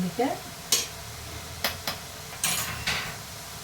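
Onion greens fry in oil in a pan while a utensil stirs them, giving several sharp scraping and clinking strokes over a soft, close sizzle.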